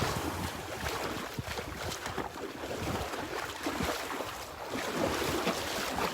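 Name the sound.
wind blowing on a beach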